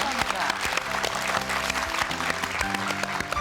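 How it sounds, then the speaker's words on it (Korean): Studio audience applauding a guest, a world-famous vocalist, on a Korean morning talk show; dense, steady clapping fills the whole stretch at close range, with a voice speaking over it. "박수를 크게 보내주시기 바랍니다."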